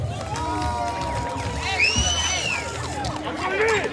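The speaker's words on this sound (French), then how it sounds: "je vous demande d'applaudir très fort" A crowd at a political rally in honour of Laurent Gbagbo cheers and shouts continuously, with whistles and horn-like tones rising and falling over dense babble, loud and close throughout.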